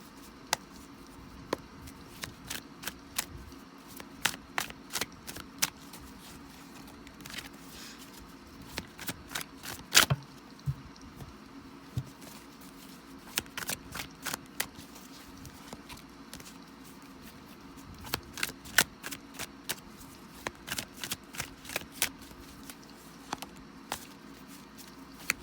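Tarot cards are shuffled by hand in quick bursts of crisp riffling flicks and soft slaps, separated by pauses, close but quiet.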